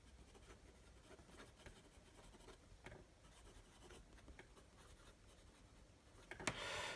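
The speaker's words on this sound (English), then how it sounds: "I'll do a little writing sample just here in the book." A Lamy Safari fountain pen with a fine nib writes on smooth, coated Rhodia dot grid paper, giving a very faint, soft scratching of short strokes with no talking.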